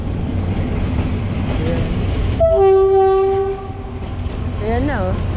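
A PNR train in the Philippines passes along a cleared railway right of way, its rumble steady before a loud horn blast of about a second, with a brief voice near the end.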